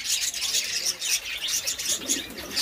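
Pigeons in a loft give soft, repeated cooing and chirping amid a noisy, hissy background, fairly faint and continuous with occasional brief wing rustles.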